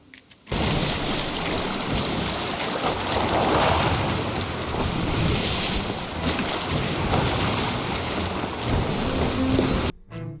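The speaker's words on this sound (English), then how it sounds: "I'll play some audio so you can hear the difference between a stealth board and a normal board." Steady rushing of waves and wind washing over a creaking ship while boarding it in the video game Sea of Thieves, a continuous loud ambience that cuts off abruptly near the end.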